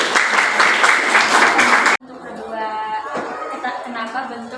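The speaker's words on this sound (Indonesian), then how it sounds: "Kita beri tepuk tangan untuk kelompok resesif." Students in a science classroom applaud a student group, a dense burst of clapping for about two seconds that cuts off abruptly, followed by quieter room sound and voices.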